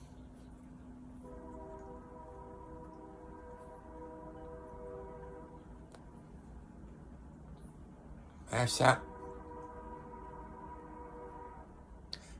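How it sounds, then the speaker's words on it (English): A southbound train passes in the distance on a snowy day, a low steady rumble running under the whole stretch with a brief louder horn-like burst partway through, while someone talks over it. "I hear a train. Sound like it's coming southbound."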